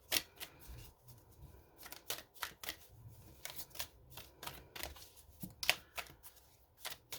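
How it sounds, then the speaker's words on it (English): Tarot cards shuffled by hand at close range, a string of quick, crisp riffling snaps and soft slaps coming in uneven bursts, with no talking. "I'm shuffling the best I can."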